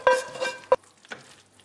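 Toasted Tropea onions and pancetta tossed into spaghetti in a pan with the flame off, giving a few soft, close stirring and scraping scuffs with faint residual sizzle.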